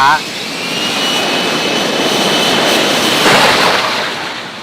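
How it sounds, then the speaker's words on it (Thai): An F-35B fighter jet takes off from a ship deck over a ski-jump ramp, its engine roaring loud and steady for several seconds, swelling and then fading slightly at the end. "เครื่องจะวิ่งผ่านรันเวย์ที่เป็นรูปเน ินขึ้นสู่ท้องฟ้า"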